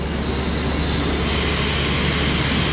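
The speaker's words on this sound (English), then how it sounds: "Sorry for the noise here, guys, but it is a manufacturing facility" Steady, loud broadband roar of a manufacturing facility where a C8 Corvette exhaust is being installed, a constant industrial hum and rumble with no breaks.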